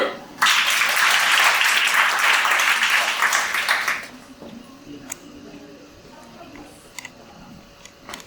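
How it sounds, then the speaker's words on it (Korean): A talk show studio audience breaks into loud, full applause that lasts about four seconds, then drops away to a quiet room with a few faint ticks and clicks. "박수!"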